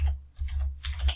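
A few quick keystrokes clatter on a computer keyboard while a word is entered into an Excel chart title, close and fairly soft in brief bursts.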